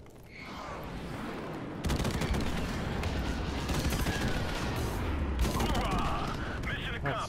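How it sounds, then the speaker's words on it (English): Airstrike explosions and gunfire in Call of Duty Modern Warfare Remastered gameplay build into a loud, continuous barrage of dense blasts and rumbling that holds for several seconds after a quieter opening. "Friendly airstrike on the way."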